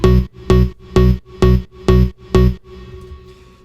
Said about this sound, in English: We're going to look over the bass sound first.